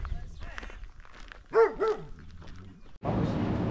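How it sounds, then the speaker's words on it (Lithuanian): A dog barks twice in quick succession nearby, set among other faint barks, yips and background noise, ending with a burst of rushing noise. "daug šunų palaidų"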